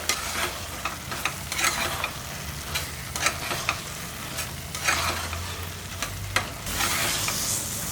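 A spoon stirs thick carrot halwa sprinkled with roasted cashews, giving repeated scraping strokes with a soft sizzle underneath, close and steady with no talk.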